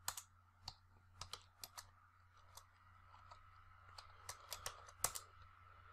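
Keys clatter on a computer keyboard while someone codes a seeder function in a React tutorial, producing scattered clicks and short bursts of keystrokes that come close, with a steady low hum underneath and no voices.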